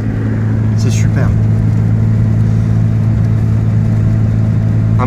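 Ligier JS50L Élégance microcar from 2017 with a DCI engine pulling up a hill, a steady mid-pitched engine drone with a whirring hum that stays loud throughout, while someone talks over it.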